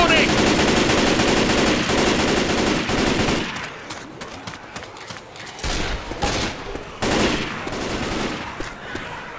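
Loud sustained automatic gunfire in the shooter game Left 4 Dead campaign, a dense rattling stream that breaks off into scattered shots and bursts, with game voices briefly calling out.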